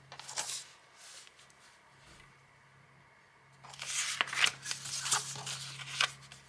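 Paper pieces are cut down to 5 by 7 inch size with scissors: a short crisp cut, a quiet pause, then a longer run of snipping and rustling, close and soft.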